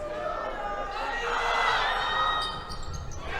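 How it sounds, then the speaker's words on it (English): A high school basketball crowd in North Middlesex's gym yells and roars during a Fitchburg HS vs North Middlesex game, a dense swell of voices that builds toward the middle and then eases off. "I think that was the North Middlesex crowd that was yelling."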